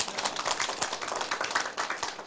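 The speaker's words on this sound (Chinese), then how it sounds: "拍拍手" An audience at a lecture claps briefly, producing a quick patter of overlapping hand claps at moderate volume for a couple of seconds.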